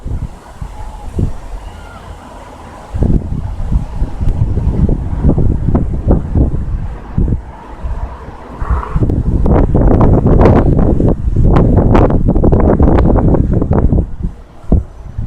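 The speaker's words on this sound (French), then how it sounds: "le vent se relève un peu" Strong storm gusts in Amiens, France roar and buffet the microphone in loud waves, with the rush of wind and water rising and falling throughout.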